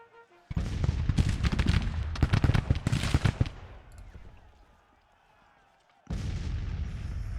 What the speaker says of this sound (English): There goes Maryland Flying Artillery.